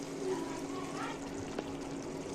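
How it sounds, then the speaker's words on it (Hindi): Warm water trickles into eggplant curry frying in a pan, a steady soft pour over the continuous sizzle, with no voices. "अब मैं थोड़ा सा गर्म पानी थोड़ा सा ऐड करूँगी।"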